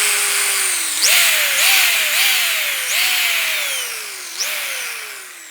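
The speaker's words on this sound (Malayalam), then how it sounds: "ആ ബ്രഷിന് അടിവശത്ത് നമുക്ക് ഇതുപോണക്കൊരു ഹോൾ ഇട്ട് കൊടുക്കാം." A handheld drill boring into the bottom of a toothbrush, loud and close, its whining motor repeatedly dropping in pitch under load and then jumping back up as it bites in, with no talking.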